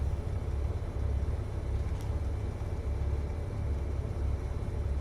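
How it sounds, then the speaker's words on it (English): Cessna 207 single-engine airplane taxiing across long grass, a steady loud engine drone and rumble continuing evenly throughout with no voices. "Now I'm going to taxi across the grass here."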